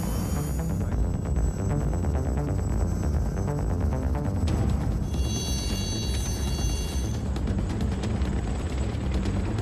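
An Alouette 3 helicopter taking off: a loud, continuous rotor throb with a whining turbine tone, holding steady close by throughout.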